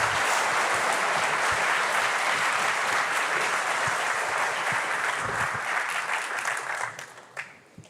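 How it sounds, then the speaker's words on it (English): Loud, dense audience applause fills a live tech conference hall, sustained and even before tapering off and dropping away in the final second. "Let's give a round of applause"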